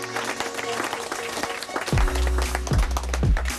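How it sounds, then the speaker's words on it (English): Audience clapping to welcome a visitor at a Nigerian school, a steady patter of applause with murmuring voices, then low thumps and rising tones from 2 seconds onward. "Clap for him now."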